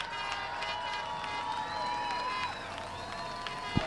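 Spectators at a speedway during the wave lap cheer and clap in a steady distant roar, with whistles and voices mixed in.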